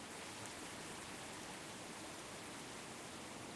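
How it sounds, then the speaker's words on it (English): Steady rain hisses evenly in the video game Tower! Simulator 3 at Raleigh airport, a continuous broadband wash with no breaks, soft and constant throughout. "Again, we're back into rain here at Raleigh."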